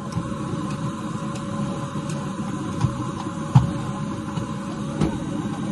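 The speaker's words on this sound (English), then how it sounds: "So that's the hoovering done" A vacuum cleaner hoovers up dog hair inside a camper van, a steady close whooshing drone with a low hum, broken by a few brief knocks and bumps as the nozzle moves around.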